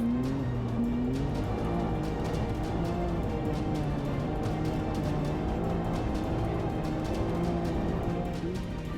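A Can-Am side-by-side racing on a desert rally stage in Morocco, its engine a steady loud drone with shifting pitch, heard from on board throughout with no talk.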